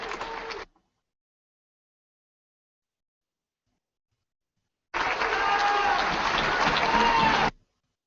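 A crowd applauds at a Lega Nord rally in Verona, a short burst that cuts off, then after silence a louder, sustained wave of clapping with voices.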